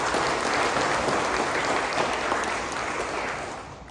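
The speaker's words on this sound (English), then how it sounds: "let's give a good round of applause" Steady applause from a conference keynote audience, loud and sustained, easing off slightly toward the end.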